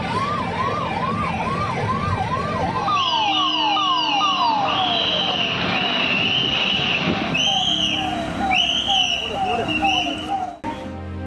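An ambulance siren wails near and loud, first a rising-falling yelp and then a sweeping wail, while a second siren from a police escort joins in, all over steady traffic noise.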